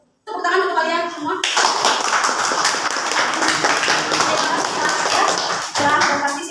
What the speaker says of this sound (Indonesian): Dan tepuk tangan untuk kalian semua